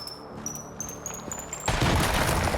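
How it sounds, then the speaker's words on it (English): A pipe bomb goes off in a video game: a series of rising beeps followed by a sudden loud blast that rumbles on in a dense, crackling roar. "Pipe bomb."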